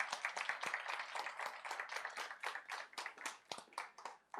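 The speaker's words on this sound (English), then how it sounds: "With a great round of applause, please introduce this little walk." A summit audience gives a speaker a round of applause. Many hands clap in a dense, quiet, continuous patter that holds steady throughout.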